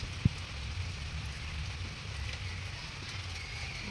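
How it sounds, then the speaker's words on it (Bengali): Heavy rain pours down steadily outdoors as an even, continuous hiss throughout, with one sharp tap near the start. "ভালোই জোরে বৃষ্টি এসেছে।"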